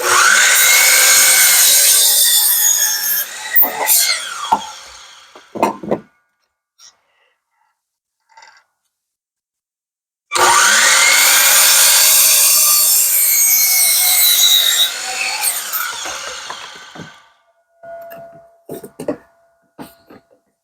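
A miter saw cuts reclaimed pallet wood into triangle pieces in two loud bursts of whining, rasping blade through wood, each a few seconds long, separated by near silence and followed by faint clicks and handling.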